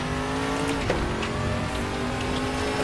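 Nissan GTR GT1 race car in RaceRoom on a lap, a loud, steady engine drone with a sustained tone and brief tire chirps, alone without talk.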